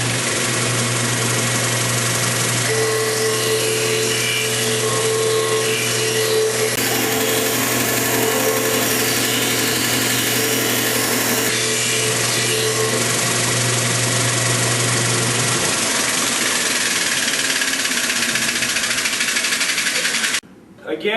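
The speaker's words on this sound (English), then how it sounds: "Now we're ready to use the disc sander." The disc sander of a bench combination sander runs with a steady motor hum and whirring drone close by, a sanding tone rising intermittently as work is pressed against it, with a voice talking over it.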